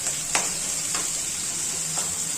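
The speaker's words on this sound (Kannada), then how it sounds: "ಫಸ್ಟು ಆನಿಯನ್ನ ಚೆನ್ನಾಗಿ ಫ್ರೈ ಮಾಡ್ಕೋಬೇಕು" Onions frying steadily in a pan give a continuous bright sizzle, with a few faint stirring scrapes breaking through and no voices.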